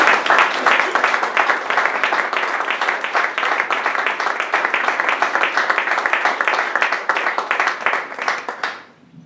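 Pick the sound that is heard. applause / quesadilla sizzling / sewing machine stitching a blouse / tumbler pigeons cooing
applause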